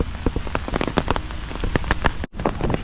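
Heavy rain in Kaohsiung, Taiwan, a dense close patter of drops hitting a surface with sharp splashy ticks, steady and loud throughout with one brief dropout near the end.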